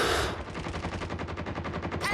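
Automatic weapon fire in Call of Duty Mobile on the Hovec Sawmill map rattles out as one loud, fast, continuous burst of evenly spaced shots lasting about two seconds.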